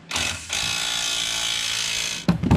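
Snap-on ratchet working on a racecar's quad shock in a shop: a steady, close, sustained mechanical whirr of spinning ratchet or power-tool action lasting about two seconds, with a brief clatter of handling noise at the end.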